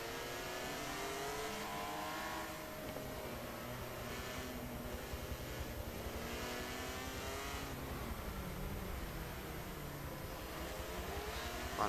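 BMW M3 race cars run in close formation on a circuit, their engines a continuous droning, rising and falling rev at medium distance, several layered together with no talk.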